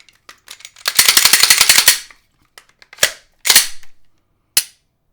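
Handgun malfunction clearing with an empty magazine: a rapid rattle of metallic clicks, then several sharp slide and magazine clacks spaced apart, loud and close.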